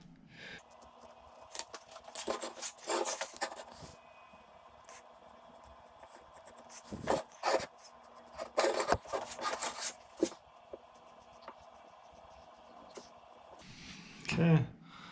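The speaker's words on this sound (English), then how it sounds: "So let me draw this in Sharpie." A Sharpie marker squeaks and scratches across live oak spoon blank wood in several short, close strokes separated by quiet pauses, with a bump at the end.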